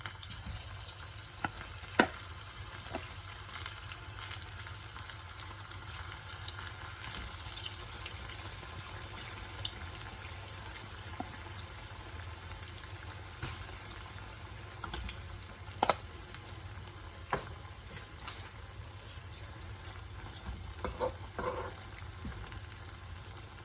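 Battered cauliflower pakoras fry in hot oil in a pan with a quiet, continuous bubbling sizzle and scattered faint clicks and pops throughout, with no voices.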